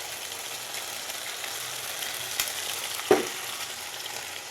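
Ginger and chili fry with a steady hiss over high flame as tomato puree goes in, with a soft thud and a brief splash near the end, close and fairly loud.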